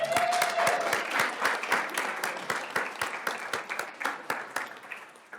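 An audience at a school district governing board meeting applauds students, a dense round of clapping that thins into scattered, sharper claps as it tapers off.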